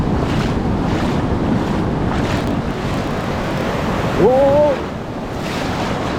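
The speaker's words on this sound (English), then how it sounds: "That wave was a strong one there." A strong ocean wave crashes onto the beach at La Libertad, El Salvador, its roaring surf mixed with heavy wind buffeting, and a voice briefly exclaims near the end.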